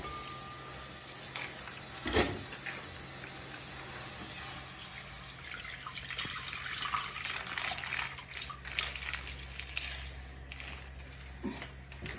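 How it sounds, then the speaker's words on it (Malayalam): Milk is poured from a cut-open packet into a pot while making vermicelli payasam, a steady liquid stream with a splashy start, continuous and close, with no talking. "ബാക്കി എല്ലാം വെള്ളം കളഞ്ഞു നമുക്കിനി പാല് പൊട്ടിച്ച് ഒഴിക്കാം"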